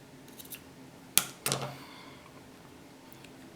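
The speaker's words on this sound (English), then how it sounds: "Then you can take your scissors and trim the ends." Two quick, crisp snips of scissors trimming thread ends after sewing on a button, close and distinct, against a quiet background.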